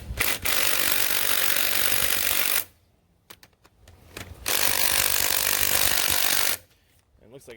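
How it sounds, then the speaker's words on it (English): An impact driver hammers at the tail shaft housing bolts of a transfer case outdoors in the rain, two loud sustained bursts of rattling impacts separated by a quieter pause with small clanks. "Nope, impact driver's not going to get it."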